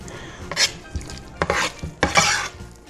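Cilantro being folded into a mashed avocado salsa mixture in a bowl, heard as a few short, soft, wet scraping and stirring strokes at close range, with no talking.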